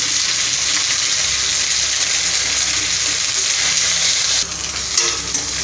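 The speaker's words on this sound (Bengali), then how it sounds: "মশলাটা সুন্দর কষানো হয়ে গেছে।" Masala with Kashmiri chili powder and turmeric fries steadily in a pan, giving a constant close sizzle with a slight drop in intensity near the end, no voices present.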